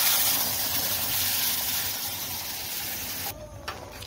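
Ground coriander green chutney with chilli and garlic hits hot oil, giving a loud, steady broadband sizzle that hisses continuously for several seconds before dropping off near the end.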